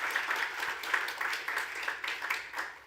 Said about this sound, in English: So a round of applause for the judges, please,